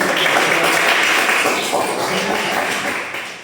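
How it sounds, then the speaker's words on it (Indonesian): Classroom students in an engineering mechanics lecture clap together in a dense, steady burst of applause lasting a few seconds, fairly close and loud, fading slightly toward the end. "Tepuk tangan dong."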